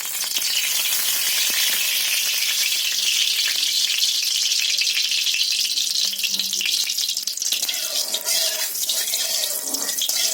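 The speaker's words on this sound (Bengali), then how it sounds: "তো বন্ধুরা, আমি কড়াইতে তেল দিয়ে দিয়েছি।" Oil in a wok gives a steady, loud, hissing sizzle that runs unbroken throughout, close by with no voices.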